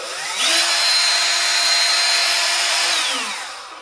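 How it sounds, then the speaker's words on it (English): A handheld power drill, its trigger worked by a Taska prosthetic hand, spins up to a steady, loud whine for about three seconds, then winds down. "I can grab this drill and I can hold it, and then I can simply run that drill proportionally"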